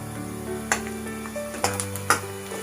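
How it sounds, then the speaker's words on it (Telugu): Ground dal sizzling in a pan with fried onion and green chili, a steady close frying crackle broken by a few sharp scrapes and clinks of a spoon stirring. "మంచిగా కలుపుకొని మనం బాగా వేగాలి. పప్పు కూడా కొంచెం బ్రౌనిష్ అవ్వాలి మనకి పప్పు"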